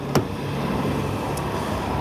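A Hyundai Palisade's engine idling after a remote start, a steady low hum heard from nearby, with a brief click near the start and no talking.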